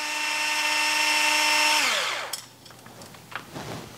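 A power tool spinning out the last fastener on an RC chassis skid plate battery cover: a steady high whine for about two seconds that winds down, followed by light clicks and handling noises.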